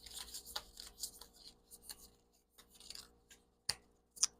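Small tarot-style animal spirit oracle cards riffle and rustle in short bursts, close and fairly quiet, with a few sharper snaps near the end.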